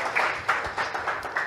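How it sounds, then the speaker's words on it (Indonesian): Audience applause at a church synod evening event, a steady wash of clapping from a crowd filling the room, with no talking over it. "kita berikan tepuk tangan untuk Pak Lo"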